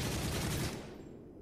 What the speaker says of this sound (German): Knallt sie ab! Feuer frei!